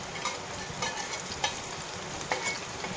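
Onions fry in a pan with a continuous, close, dense sizzle and a few faint stirring ticks.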